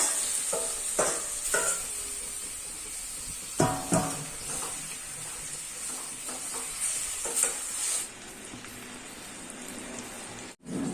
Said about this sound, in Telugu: ఫస్ట్ చికెన్ యాడ్ చేస్తున్నాను